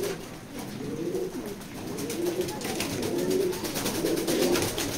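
Racing pigeons in a loft give a steady run of low, throaty cooing, several birds overlapping in rolling phrases close by, with faint rustling behind and no talk.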